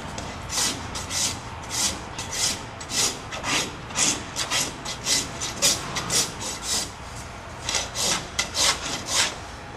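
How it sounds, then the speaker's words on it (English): A farrier's rasp files a horse hoof with steady back-and-forth strokes, about two per second, each a loud close gritty scrape, with no talk. "Use this rasp to bring this back to level."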